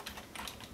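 Quick, soft taps on a Droid Bionic phone's keyboard, a brief close cluster of light clicks with nothing else around them.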